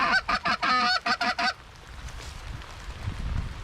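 Flock of snow and blue geese honking in a rapid run of loud overlapping calls for about a second and a half, then only faint wind and field noise, during a Northwest Indiana waterfowl hunt.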